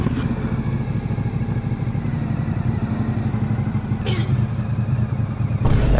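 Kawasaki Ninja 500 engine with a steady, loud, close low rumble that holds even throughout, with a couple of brief clattering knocks and a slight lift in revs near the end.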